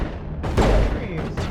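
A grenade goes off in the video game Mass Effect: Legendary Edition, a short booming blast with a heavy low thump and a quick rumbling tail, loud and near.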